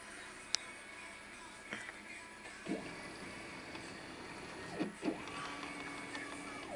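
A home-made Solsylva CNC router driven by Mach 3 makes rapid moves, its steppers giving a faint steady mechanical whir with soft ratcheting and a few sharp clicks as the axes change direction.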